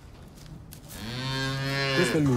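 A cow in the pope's dairy stable gives one long, loud, low moo that swells from about a second in and holds to the end, close by and alone, with no talk.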